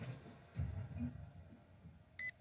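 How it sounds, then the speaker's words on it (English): A single short electronic beep from the speed controller of a Losi 1970 Chevelle 1/16 no-prep RC drag car during programming, sharp and close, after a brief stretch of quiet handling noise. "1 beep."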